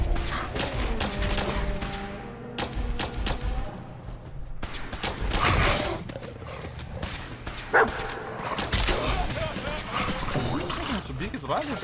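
A dog barks in Fallout 4, sharp yelps mixed with bursts of gunfire and game effects, while someone talks over much of the action.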